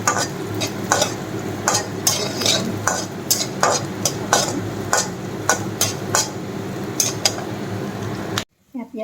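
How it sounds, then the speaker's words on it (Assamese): Onions fry in oil in a pan, a steady sizzle broken by repeated sharp clanks of a metal spoon stirring against the pan, close up, cutting off abruptly at the end. "লৰাই ল'ব লাগিব, পিঁয়াজখিনি অলপ ৰং কৰা হ'লে"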